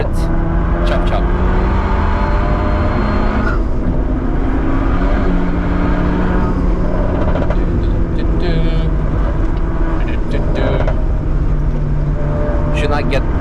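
Honda Civic FK2 Type R engine running hard at speed on the Nürburgring, a loud continuous drone with shifting pitch heard from inside the car, with people talking over it.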